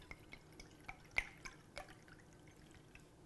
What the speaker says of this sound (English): you're going to go ahead and pour this gently over all your vegetables